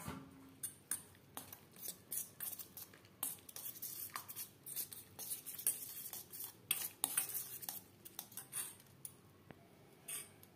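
A spoon clinks and scrapes against a bowl while mixing a thick paneer batter of flour and water, with repeated irregular stirring strokes, close and fairly quiet, with no talking.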